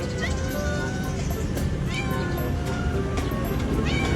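A gold-coloured cat meows in a few short, sharp cries close by, set against a loud, constant noisy background with a voice running underneath.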